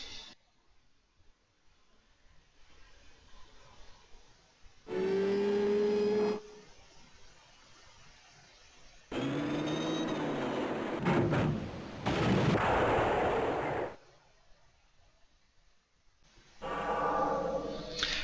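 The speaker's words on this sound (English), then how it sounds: "and then we push the big sub launch button." Mini-sub launch sequence in the retro video game Discoveries of the Deep: bursts of loud mechanical engine and hydraulic noise with whining tonal sweeps, separated by quiet stretches, no voices.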